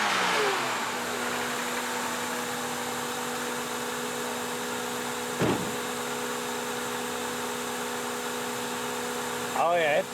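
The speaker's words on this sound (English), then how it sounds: "it's making a lot of sucking noise from there" A short ram air intake on a 2000 Honda Accord engine draws air with a steady, close rushing hum and hiss that holds throughout, with brief surges in the middle and near the end.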